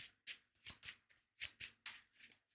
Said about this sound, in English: Shuffle them all in.